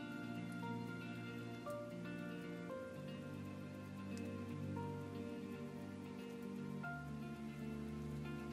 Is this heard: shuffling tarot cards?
no